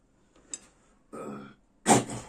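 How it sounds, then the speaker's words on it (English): A few separate bursts of coughing and throat clearing, close by, with short silences between them, the last burst loudest. "I'm sorry for the coughing."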